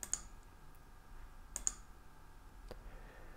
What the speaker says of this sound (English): So we'll click into it and we'll click on post.